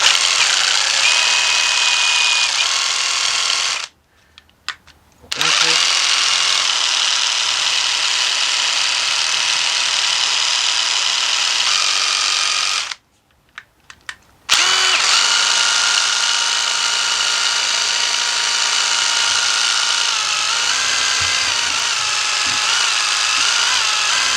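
A drill hones a valve body bore in a JF011E / RE0F10A CVT transmission, running as a steady loud whir that stops twice for about a second each time before starting again.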